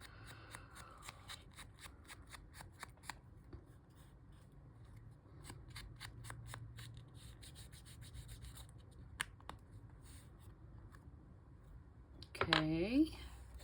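Scissors trim the white edges off a small 3 x 4 paper card in a run of quick, dry snips and soft paper rubs, close and faint, with brief handling noise near the end.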